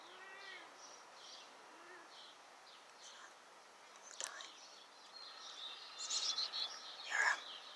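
Faint high chirps from a baby bird inside a nest, thin repeated peeps in short bursts over quiet outdoor background, louder toward the end.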